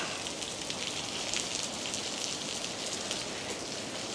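Heavy rain pours down at a large train station, a dense, steady hiss of drops drumming on surfaces from under cover, constant and loud with no pauses.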